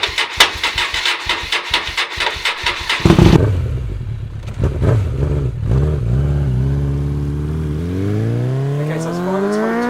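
A project motorcycle engine cranks with a fast, rhythmic chugging for about three seconds, then catches and fires up, revving unevenly before settling into a steady idle that climbs in pitch near the end.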